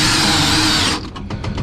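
A power drill drives a 2-inch epoxy screw into the edge of a solution tank inside an enclosed trailer: a loud, steady whine that cuts off near the end, leaving a few short mechanical clicks.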